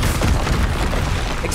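Expelliarmus spell cast in Hogwarts Legacy on PC, a dense booming magical burst that fills the whole moment, loud and sustained with no pause or speech.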